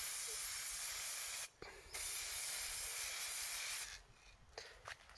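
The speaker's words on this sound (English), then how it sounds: "we're using the black spray, and we're going to paint from underside" Black spray paint hissing from an aerosol can onto printed gothic ruins terrain, two sustained close bursts with a brief pause between them, then a quieter tail.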